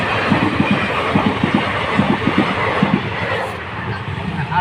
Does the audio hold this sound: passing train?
yes